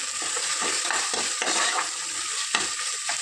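Tomatoes and green chillies fry in a pressure cooker, a soft steady sizzle with short scraping strokes of a ladle stirring every half second or so, fairly quiet and close, no speech.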